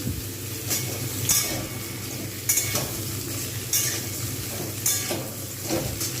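Ridge gourd and mixed vegetables frying in a pan, a moderate sizzle under repeated stirring clinks and scrapes of a spatula against the metal, close by and fairly loud.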